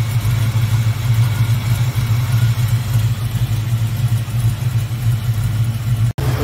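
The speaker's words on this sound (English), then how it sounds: "The fans are actually running right now." Electric dual radiator fans on an aluminum radiator whirring over the steady low idle of a G-Body Cutlass, a constant close rumble and rushing hiss with a brief dropout near the end.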